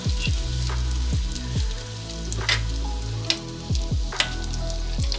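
Moroccan sfenj doughnuts fry in hot oil with a dense, close sizzle and bubbling crackle, broken by a few sharp clicks and knocks of utensils, with no talking.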